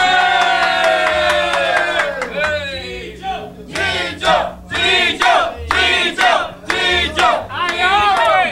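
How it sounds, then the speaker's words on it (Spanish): A crowd at the Fuego Fuego venue cheers and shouts in loud, repeated bursts, with voices rising and falling in waves of chant-like whooping; a distinct clapping patter is not clearly separate from the cheering. "¡Un aplauso para Chicho, todo el mundo!"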